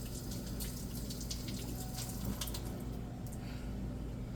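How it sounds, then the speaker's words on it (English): Kitchen tap water runs steadily into a sink for hand washing before cooking eggs, a soft continuous stream with faint splashing throughout. "you do always want to wash your hands"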